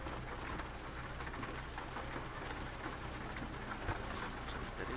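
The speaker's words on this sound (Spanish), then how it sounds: "le pongo los limpiadores porque está lloviendo." Steady rain pours down continuously in a horror video game set around a truck, a dense even hiss with scattered drops and a low rumble underneath, loud and unbroken throughout with no voices.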